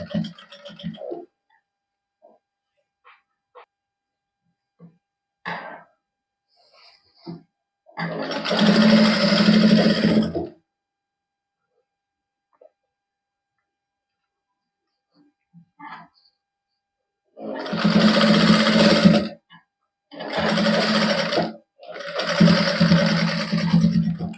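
A sewing machine stitches a cuffed sleeve in one short run, then three longer whirring bursts after a quiet stretch with faint handling noises.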